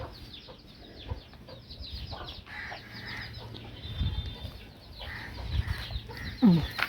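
Soft clucks and small cheeping calls from a chick nearby, scattered over a few seconds with faint background rustle and no talking.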